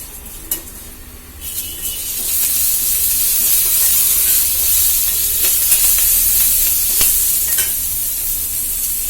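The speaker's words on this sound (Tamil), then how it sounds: "உளுந்து கொஞ்சம் பாதி வறுத்த பிறகு நம்ம கருவேப்பிலையும் கூட போட்டு வறுத்துக்கலாம்." Urad dal and curry leaves roast in a hot pan, starting with a few light clicks and scrapes, then swelling into a loud, steady hissing sizzle with occasional stirring taps.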